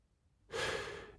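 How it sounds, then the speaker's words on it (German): A hearty human yawn, heard as one soft, breathy exhalation that swells suddenly and then fades over about half a second, close and quiet with no talking. "Ein herzhaftes Gähnen kriecht in mir hoch."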